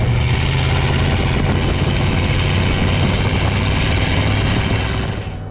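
A Chevy Tahoe fitted with rear locker and new gears cruises down the highway, its engine a steady, loud broadband drone with road noise, continuous and alone throughout.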